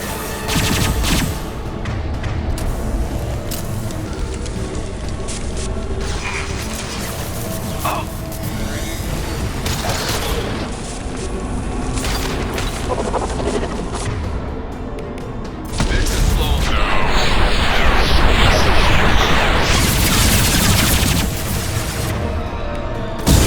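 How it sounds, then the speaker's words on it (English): Heavy weapon fire in the video game Mass Effect 2 on Insanity difficulty: dense, loud bursts of gunfire and booming impacts, with a heavier sustained barrage late on. "Heavy weapon."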